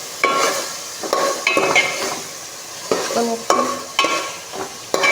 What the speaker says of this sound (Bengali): এখন দিয়ে দেবো চাল কুমড়ো, দিয়ে ভালোভাবে নাড়াচাড়া করবো।